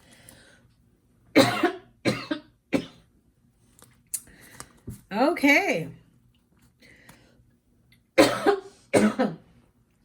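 A few harsh coughs in separate bursts, close to the mic, with a brief spoken word in between.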